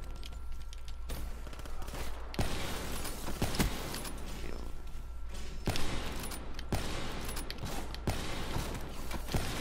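Gunfire in Call of Duty, with repeated sharp shots and rapid bursts punctuating a constant rumble of game noise, loud and close, with no one talking.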